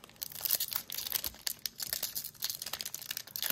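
Foil wrapper of a 2022 baseball card pack being crinkled and torn open, soft irregular crackling bursts, close and faint.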